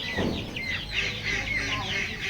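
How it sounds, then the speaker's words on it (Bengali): Layer chickens kept as parent stock on a poultry farm cluck and chatter in a dense, continuous flock chorus, close and fairly loud. "আমি লেয়ার মুরগি বাচ্চা বিক্রি করি"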